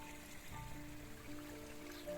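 Water trickles steadily along a handmade six-metre garden stream, a faint, continuous wash heard alone with no voices.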